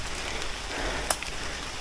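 Rain falling along a rugged jungle hiking trail near Damai Waterfall in Malaysia, a steady soft patter filling the air evenly throughout, with one brief sharper drop or tap standing out midway.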